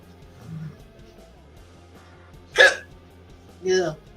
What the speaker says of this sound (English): Yeah, hiccups.